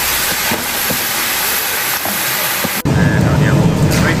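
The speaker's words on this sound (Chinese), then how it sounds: "猪蹄入锅啊" Pig trotters hit a hot wok at a Shandong banquet kitchen, a sudden loud sizzling roar that bursts in over a steady hiss of steam and burner noise.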